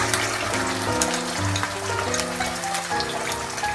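Onions fry in oil with tomato puree in a continuous crackling sizzle, close and fairly loud, with faint stirring and soft wet bubbling throughout.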